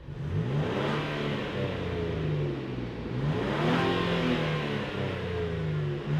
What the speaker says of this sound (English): let's fire up this truck and hear what it sounds like